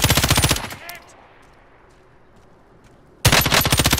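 Automatic gunfire in the Call of Duty Warzone video game: a loud rapid machine-gun burst, then a near-silent pause, then another loud burst of rapid shots.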